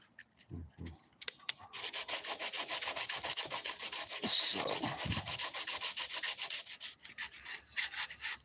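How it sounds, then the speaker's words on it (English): Hand sanding of boat gelcoat on a Key West 21 center console with an 80 grit sandpaper block: close, loud rhythmic rasping strokes in a fast steady back-and-forth, starting after a few scattered scrapes and easing off at the end. "I'm hitting this with some 80 grit"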